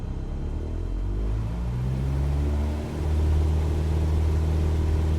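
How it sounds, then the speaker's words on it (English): Simulated aircraft engine in Microsoft Flight Simulator 2020 spooling up to full throttle while held on the brakes, a steady loud low drone whose rising harmonic tones climb in pitch and swell after a brief dip. "Throttle up to full."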